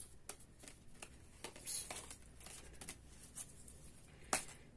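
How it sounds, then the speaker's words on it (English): Angels in Abundance oracle cards are shuffled by hand, a run of soft, quick riffling and flicking bursts with a sharper snap near the end, close and quiet. "So we're gonna go ahead and shuffle and just kind of pull where we need to"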